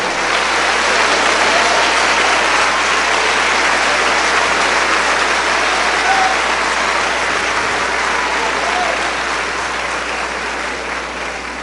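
Sustained, dense applause from a large church congregation fills the whole stretch, steady and loud, tapering slightly at the end.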